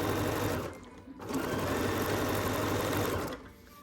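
A sewing machine stitching down the side of fabric pieces for a quilted Merry & Bright star, a steady close mechanical whir with a brief pause before running on.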